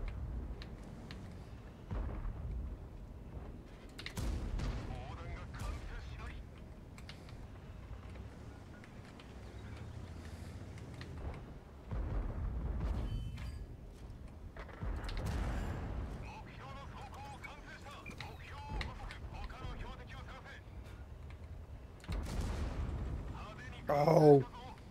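Heavy tank cannon shots from the STB-1 in a tank battle video game land as a few sharp, booming blasts spread across the stretch, amid a steady wash of battlefield noise and engine rumble.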